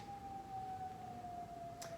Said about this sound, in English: They're testing the sirens today.